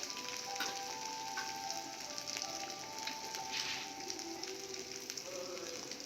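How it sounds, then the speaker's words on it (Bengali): Ginger frying in a pan, a continuous close crackling sizzle that stays even and moderately loud, with occasional light clinks and no talking. "এবার ভালো করে ভেজে নেবো কাঁচা গন্ধ না থাকে"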